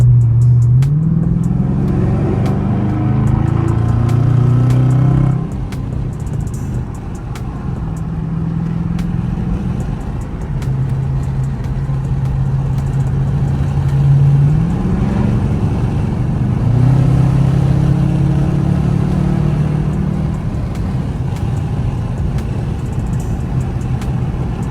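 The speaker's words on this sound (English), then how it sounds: "y'all cannot tell me that the car don't sound way better compared to what it used to be" Dodge Charger RT with a mid muffler and resonator delete cruising on a highway, its engine and exhaust droning loud and close, with deep tones rising as it pulls through the gears, dropping on shifts and climbing again.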